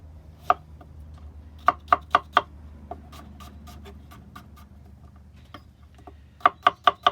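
Knife roughly chopping onion on a board in quick bursts of three or four sharp taps, separated by quieter scattered knocks, close and crisp.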